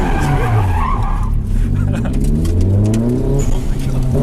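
Honda CRX with a B18 engine doing donuts, its tyres skidding in a steady, loud, continuous scrub under the engine's drone, with people's voices and exclamations close by throughout.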